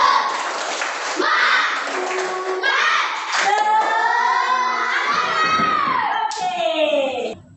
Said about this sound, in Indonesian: Kita berdiri, kita tepuk semangat.